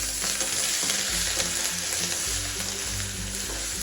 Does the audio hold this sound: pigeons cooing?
no